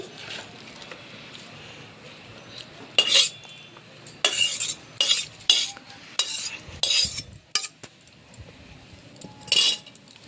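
Boiled cabbage tipped out of a cooking pot, heard as irregular metallic clanks and scrapes of pot and utensils in short bursts over a quiet background, without talking.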